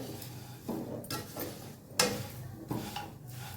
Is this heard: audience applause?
no